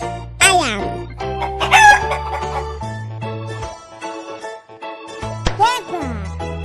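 Toy chicken or rooster sounding a repeated crowing and clucking call, bright and loud, with several rising squawks and tonal bursts across the clip and no talk.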